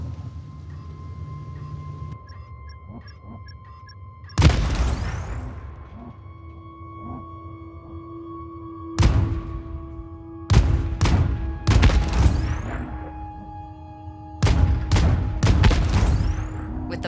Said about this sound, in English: Use the benediction cannon to shoot the mines.